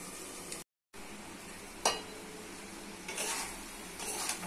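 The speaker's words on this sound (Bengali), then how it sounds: "এভাবে কষে কষে রান্না করতে হবে। পটল, আলু, বেগুন, ঢাকা দিয়ে রান্না করে দিতে হবে।" Pointed gourd, potato and eggplant are stir-fried in a pan with a soft continuous sizzle and occasional scraping and clinking of a spoon, close by and fairly quiet, with a brief dropout early on.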